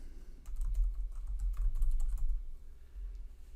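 Fingers tap steadily on a computer keyboard while a patient's name is entered during CPAP device setup, giving a quick, soft run of close keystrokes that trails off near the end.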